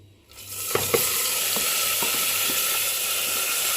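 Washed moong dal drops into hot mustard oil seasoned with cumin and bay leaf, bursting into a loud, steady, close sizzle after a brief quiet start, with a few sharp spatula knocks early on.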